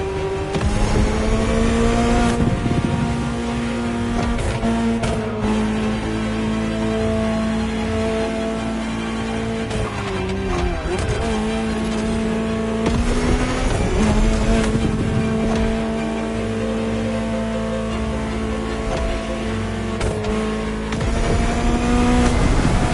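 A high-revving Ferrari supercar engine in the video game The Crew Motorfest roars steadily throughout, its pitch rising and falling through gear changes, loud and close with no talking.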